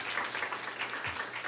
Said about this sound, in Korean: 그 귀한 사역팀들 다시 한번 우리 큰 박수로 감사하다고 함께 마음 전하겠습니다